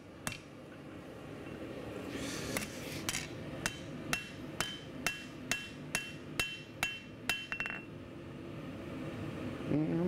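A hammer strikes metal on an anvil in a forge, about a dozen sharp ringing blows at a steady rhythm, close and loud over a low background hum.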